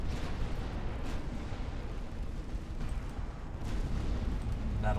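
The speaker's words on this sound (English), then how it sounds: "let's disengage again and fire AP rounds if you can." Warship guns fire armour-piercing shells in a naval battle in the Ultimate Admiral Dreadnoughts video game. Heavy booms blur into a sustained low rumble, with a few sharper reports standing out.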